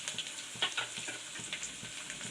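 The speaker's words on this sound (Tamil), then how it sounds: "எல்லாத்தையும் நல்லா கிளறி விட்டுக்கோங்க" Onions fry in a pan while being stirred, giving a steady bright sizzle with soft scraping strokes of the spoon at regular intervals, close and continuous.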